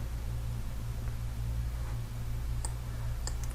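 Computer mouse clicks on a desktop running Kali Linux, a few small sharp clicks near the end over a steady low electrical hum, no talk.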